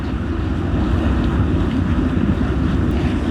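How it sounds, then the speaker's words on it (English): Steady, loud wind buffeting the microphone of a cyclist on a cold, long ride, a continuous low roar and rumble with no break and no talk. "And the wind's been on me all the way."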